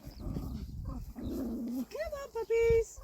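Dogs out in a meadow give short high whimpers and whines near the end, close and fairly loud, after a stretch of mixed voices and shuffling.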